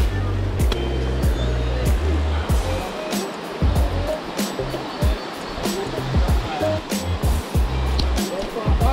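A waterfall roars as a steady, loud broadband wash close by, with people talking and moving over it throughout.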